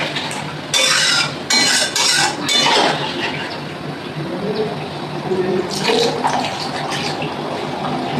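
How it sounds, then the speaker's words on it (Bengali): Water poured into a cooking pot of fried fish curry and potato-pointed gourd on the stove, heard as a few short bursts of splashing and clinking against the pot with steady background kitchen noise. "এখানে আমি সেদ্ধ হওয়ার মতো জল দিয়ে দেবো।"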